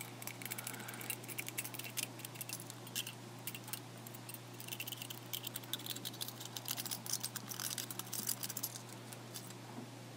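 Scissors snip around a thin ginger beer tin can, producing faint, close metallic crinkling and rapid ticking cuts over a steady low hum, with no one speaking.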